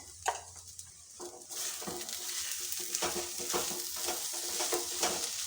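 A spiced mixture with salt and chili powder is stirred in a pan, with rhythmic scraping strokes and light clinks over a quiet, steady sizzle.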